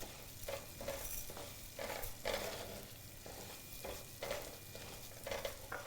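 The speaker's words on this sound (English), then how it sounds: "I'm going to take our rice and I want to coat it with the fat" Dry, unrinsed rice being stirred in hot fat in a pan for a butternut squash and bacon risotto, a steady scraping sizzle with repeated stirring strokes throughout.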